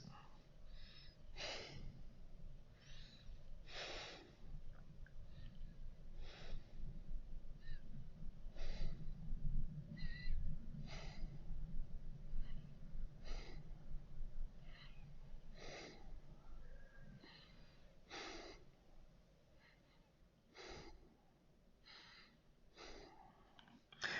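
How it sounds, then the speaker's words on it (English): Heavy, forced breaths in a yoga breathing exercise with fists pressed into the stomach near the liver, the diaphragm restricted; about twenty sharp, rhythmic huffs repeat steadily, close and moderately loud, over a low background hum. "Your breathing will be a bit hard because your diaphragm is restricted now, so you cannot breathe very deep."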